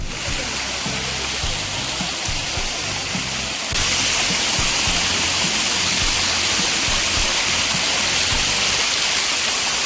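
Loud, steady rush of water pouring and splashing over Kodiveri Dam near Gobichettipalayam, a continuous roar that grows louder partway through, with no voices.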